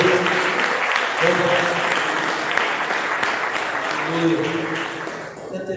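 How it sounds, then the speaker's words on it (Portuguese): A church congregation applauds Jesus during a sermon, steady close clapping from many hands that holds for several seconds, with voices speaking and calling out over it before it fades near the end. "Vamos aplaudir Jesus"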